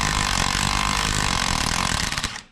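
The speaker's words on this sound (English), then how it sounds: "And then I'm gonna hit it with the impact." An impact wrench hammers on the puller bolt of a stuck Ski-Doo CVT clutch in a rapid, loud, close burst of rattling blows. It lasts about two seconds before winding down.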